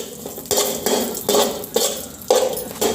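Raisins are stirred and roasted in a pan over low heat, a spoon scraping and knocking against the metal in about six brisk, regular strokes, close and clear with no talk.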